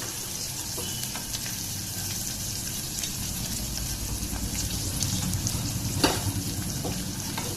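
Onions frying in a pan until golden for a potato palya: a steady, fairly quiet sizzle and crackle that holds for the whole stretch, with one brief clink near the end.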